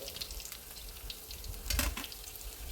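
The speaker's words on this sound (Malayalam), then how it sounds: "വെളുത്തുള്ളിയാണ് എണ്ണയിൽ മൂപ്പിച്ച് അതിൻ്റെ ഒരു മണവും രുചിയൊക്കെ വരുന്നത്" Garlic frying in hot oil in a pan, a low, continuous sizzle with a brief louder crackling burst partway through and no voices.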